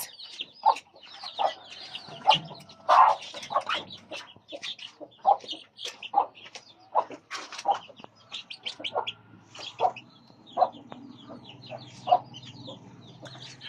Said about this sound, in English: So there's a chicken house with chicken right here.